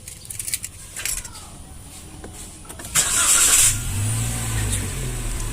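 A 2019 Toyota Avanza Veloz 1.3 with keyless ignition cranks briefly and starts, settling into a steady close idle after a few soft clicks and rattles in the cabin, with no talking.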